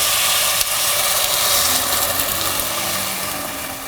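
Water poured over peas in a pot until they are nearly covered, giving a steady rushing, hissing flow that fades slightly toward the end, with no voices.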